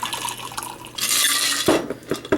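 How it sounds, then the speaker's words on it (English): A freezer-chilled cocktail poured out of a shaker, with a loud rushing splash into a glass, surrounded by clinks and knocks of glass and metal close by. "I'm just gonna pour that bitch out."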